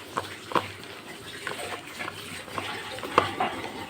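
Raw prawns being mixed with turmeric powder and salt, wet squelching and scraping with a few sharper knocks against the bowl, close and fairly quiet, no talking.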